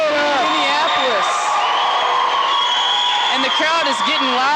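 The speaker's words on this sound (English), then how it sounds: "the crowd is getting loud here in the Minneapolis gymnasium" Crowd cheering in a Minneapolis gymnasium at a high school volleyball match between Minneapolis and Beloit, loud sustained shouting and whoops filling the hall, with an announcer's voice talking over the crowd.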